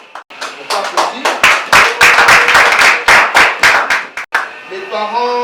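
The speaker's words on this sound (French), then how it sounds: "On peut applaudir." Rhythmic clapping from guests at a civil wedding, loud and close, a steady beat of hand claps that stops abruptly before a voice begins speaking.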